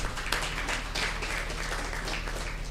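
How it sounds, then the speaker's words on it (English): Audience applause at a government launch event giving Gauteng youth free learner's licences, a steady, dense wash of clapping that continues evenly throughout with no talk over it. "A round of applause, please."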